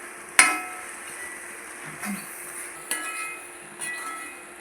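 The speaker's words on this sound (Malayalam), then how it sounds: "ഇനി നന്നായി ഇളക്കി യോജിപ്പിച്ചെടുക്കാം." Cooked soybeans being stirred in a pan, with a sharp utensil clink at the start, then a few softer scrapes and taps over a faint, quiet background.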